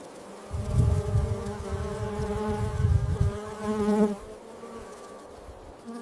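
Bees buzz close by in a steady droning hum, swelling louder in the middle and fading toward the end.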